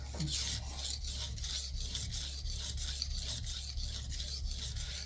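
A kitchen knife is sharpened on a whetstone with about 20 strokes per side, making a steady series of gritty scraping strokes in an even rhythm, roughly two or three per second, close and continuous over a low hum with no talking.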